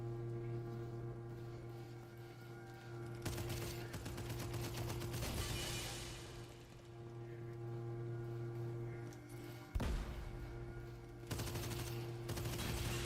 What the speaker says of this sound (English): This gun has two modes. Full auto and fuller auto.